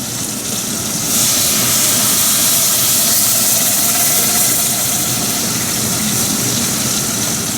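Water poured into a hot pan of frying rice for an Indian chicken curry, producing a loud, steady hiss of steam that swells after about a second and holds close and constant throughout.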